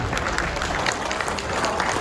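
A crowd at a political gathering in Nangloi claps to welcome BJP candidate Manoj Shaukeen, a dense, steady burst of many hands that stays loud and even throughout.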